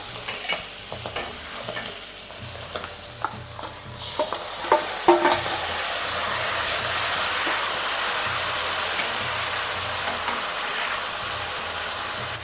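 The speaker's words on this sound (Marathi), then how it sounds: "मिरचीचे तुकडे छान तळतळले झाले" Chili pieces, asafoetida and peanuts fry in hot oil for a rustic tomato chutney tempering, giving a steady, dense sizzle with sharp stirring clicks and scrapes, close and continuous, with no talk.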